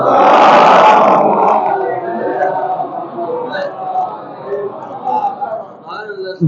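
A mourning congregation at a majlis inside an imambargah bursts into a loud, massed roar of chanted slogans that swells at first, then fades to a lower murmur under voices.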